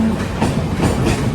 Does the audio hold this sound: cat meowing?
no